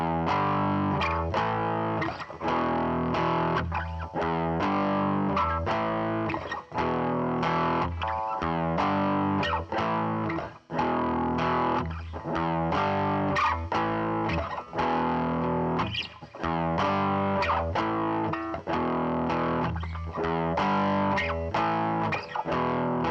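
Distorted electric guitar plays a blues riff slowly and steadily, repeating a rhythmic phrase loud and close with effects-laden tone throughout, with no talking.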